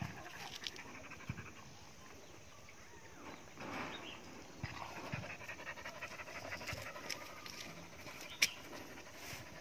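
A dog pants steadily and close by for the whole stretch, quick breathy huffs with small scuffles and patter around it and one sharp click near the end.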